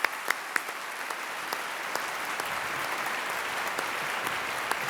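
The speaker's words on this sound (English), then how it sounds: "I think they deserve one more round of applause" An audience at an awards ceremony claps for the winners and finalists, producing a steady, moderately distant round of applause with a few sharper individual claps standing out at the start.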